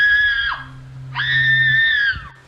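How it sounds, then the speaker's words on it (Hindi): A girl screams strangely as a horror story sound effect, in two long, high, piercing wails with a brief gap between them, loud and close. "अजीब तरह से चिल्लाने लगी।"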